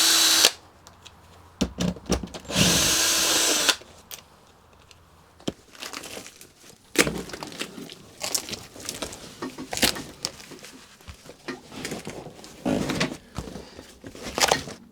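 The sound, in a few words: power tool unbolting brackets on a Magirus Deutz truck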